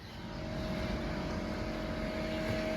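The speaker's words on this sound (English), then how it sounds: "Now we'll grab the air compressor and blow it out." Steady, loud rush of compressed air blowing out a part during routine maintenance work, a continuous broadband hiss with a low rumble that holds evenly for the whole stretch, with no talking.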